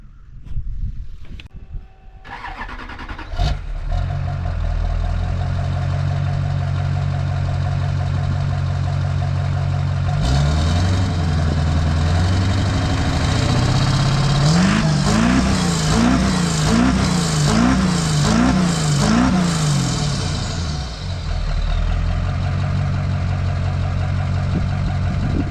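An LB7 Duramax truck diesel fitted with a 4-inch exhaust starts, settles into a loud steady idle, then is blipped through a rapid series of revs before dropping back to idle, heard close up.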